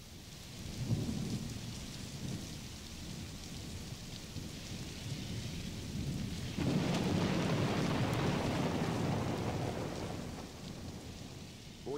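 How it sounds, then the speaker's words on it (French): Heavy rain pours steadily in a thunderstorm, with a low rumble of thunder rolling in partway through and the downpour growing louder, close and continuous. "Bon, il pleut, qu'est-ce qu'on fait?"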